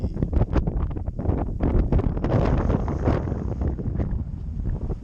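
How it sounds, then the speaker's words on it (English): Gusty, chilly wind buffets the microphone in uneven bursts at a riverside camp on the Nahanni River, a rough, roaring rush that rises and falls without any talking. "It's a chilly wind today."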